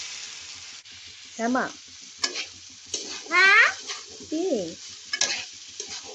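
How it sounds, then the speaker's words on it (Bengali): Washed, drained broken rice is stirred and fried in a karahi, giving intermittent scraping strokes and a light sizzle, while someone talks between the stirs. "খুদগুলোকে আমি একটু নাড়াচাড়া দিয়ে নিয়ে ভাজা ভাজা করে ভেজে নিই"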